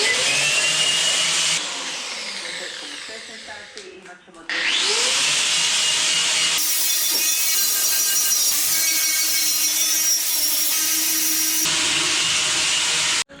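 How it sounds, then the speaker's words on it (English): Wire wheel on a power tool scrubbing the engine bay of a Ford Sierra Sapphire 4x4 Turbo, a loud, steady grinding whir running almost continuously, with a short lull and drop in the middle before it resumes at full strength. "I've cleaned it all roughly with the wire wheel"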